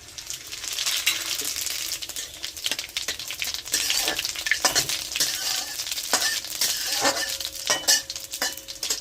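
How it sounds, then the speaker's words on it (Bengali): Dried chillies and whole white cumin seeds crackle and sizzle in hot oil, with bursts of spattering and the scrape of stirring, close and fairly loud. "তেল কিন্তু গরম হয়ে গেছে, এখন আমি দিয়ে দেবো শুকনো লঙ্কা আর গোটা সাদা জিরা।"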